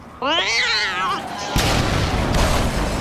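A cat gives a long, wavering, plaintive meow, loud and close, followed by a sudden burst of broadband noise that lasts to the end.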